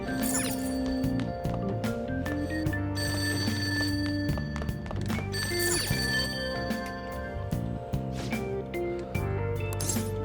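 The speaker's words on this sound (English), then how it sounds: "That ringing sound isn't coming from my cell phone, obviously. I hear it coming from downstairs." A telephone rings downstairs in the video game Persona 5, a repeated bell trill over looping background music, with no talking.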